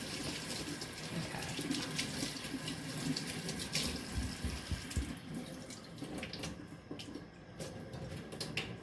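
A kitchen tap runs in a steady stream, a constant splashing hiss with small shifts in tone as hands or objects move under the flow.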